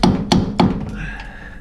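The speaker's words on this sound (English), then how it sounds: "I take this old beat up flathead screwdriver and a hammer" Hammer blows on an old, beat-up flathead screwdriver driven into a 2004 Jeep TJ Wrangler upper front shock bushing to split it: three sharp metallic thunks about a third of a second apart, close and loud, then a fading ring.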